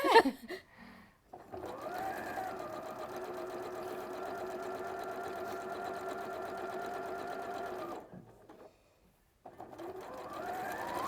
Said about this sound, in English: Have you had to move the needle across on this machine or?